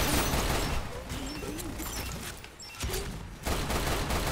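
Turret gunfire in the video game Lost Planet 2 rattles in dense, fast bursts at moderate level, with brief pauses between volleys.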